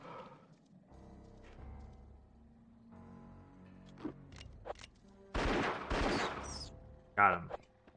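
Gunshots fired at spiders in the N64 game Indiana Jones and the Infernal Machine, faint sharp cracks over quiet ambience, then louder bursts of shots near the end.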